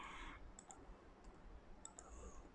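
Faint, sparse clicks of letters being typed one at a time on a computer keyboard in a quiet room, with no talking.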